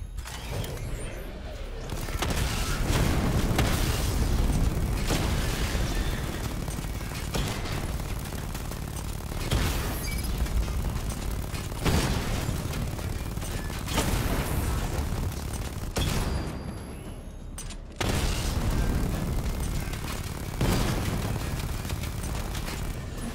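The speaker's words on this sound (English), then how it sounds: "Charge the missile barrage to level 2 to destroy up to 4 targets at once." Missile barrage explosions in Batman: Arkham Knight, a run of heavy rumbling blasts and mechanical whirs in long surges separated by brief lulls, loud and continuous over about twenty seconds.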